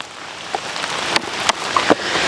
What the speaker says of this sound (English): now it's starting to drizzle on me